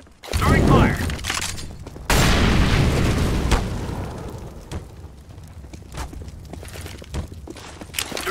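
Grenades go off in Counter-Strike: Global Offensive, with an incendiary and a flashbang named: two loud, close blasts, each followed by a long roaring burn that fades, then scattered footsteps and smaller thuds.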